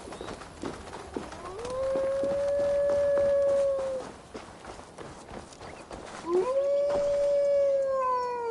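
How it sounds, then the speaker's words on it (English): A man's drawn-out, wolf-like howl used as a warning signal in the video game Assassin's Creed Valhalla, heard twice as long sustained wavering tones over background ambience and faint footsteps. "You'll hear me howl as the men approach."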